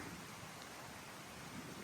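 Rain and wind outdoors on a hillside near Clarendon Gorge, a faint, steady broadband hiss of rainfall and gusting air with no voices.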